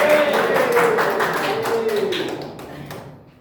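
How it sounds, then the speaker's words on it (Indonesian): Students in a classroom clap together during a microteaching science lesson, a short burst of steady, rapid hand claps that tapers off toward the end. "Tepuk tangan buat semuanya."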